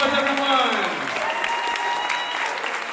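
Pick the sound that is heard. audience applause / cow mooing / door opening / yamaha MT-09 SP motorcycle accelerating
audience applause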